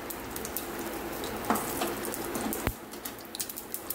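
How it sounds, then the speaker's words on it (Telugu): Mustard seeds, half a teaspoon, crackle and splutter in hot oil in a pan, a steady busy sizzle with a few sharper pops standing out, close and moderately loud with no talking. "నూనె వేడెక్కినాక ఒక 1/2 టీ స్పూన్ ఆవాలు చుట్టుపక్కలాడాలి"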